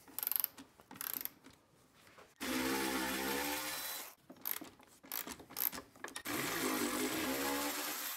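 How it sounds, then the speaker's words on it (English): Up close, a ratchet backs out 6 mm hex bolts from the passenger peg brackets of a KTM RC 390 motorcycle, giving rapid clicking bursts between pauses, including a longer run of clicks near the middle. "We're gonna go ahead and remove these passenger peg brackets here, which are a 6 millimeter hex bolt."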